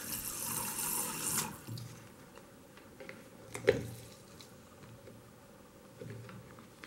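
Pure water pours into a measuring container in a brief splashing stream, followed by faint drips and small clicks.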